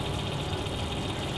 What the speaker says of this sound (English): it's my fan oven which likes to make noise when you put it on